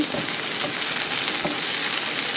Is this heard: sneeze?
no